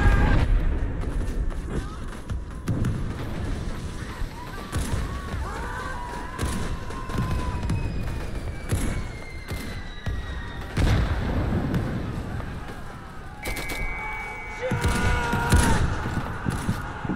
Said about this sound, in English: I'm getting blown up by grenades after grenades!